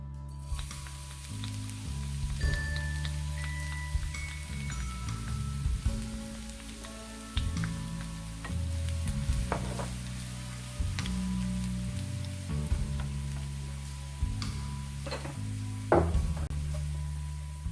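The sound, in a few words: chopped garlic frying in oil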